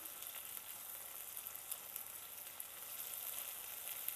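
Ground tomato paste fries with onions in a pan for a dhaba-style dal maash, giving a faint, steady, airy sizzle with light crackles and no voices.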